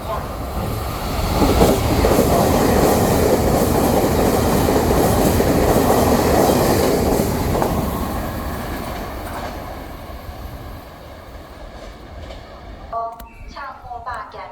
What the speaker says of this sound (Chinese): 第一月台即将有列车通过，敬请不要靠近月台边，以免发生危险。